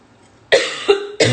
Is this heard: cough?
yes